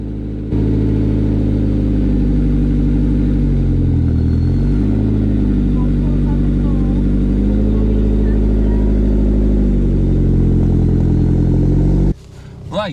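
A Ford Cosworth car engine drones steadily from inside the moving car, with rising and falling tones as it drives, and a clunk near the end.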